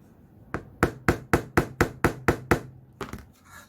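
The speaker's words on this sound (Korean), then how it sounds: "못 높이는 들쑥날쑥하지 않고 똑같은 높이가 되게끔 원목에 잘 박습니다." Nails driven one at a time into a solid wood board for a string art LED lamp, about ten sharp, evenly spaced hammer blows in a steady rhythm, close and clear, then a few softer taps.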